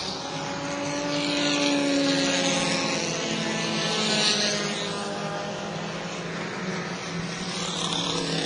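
Bomber class stock cars race at New Smyrna Speedway, a loud sustained roar of engines swelling and fading as the pack passes down the front stretch, with steady crowd-level background noise.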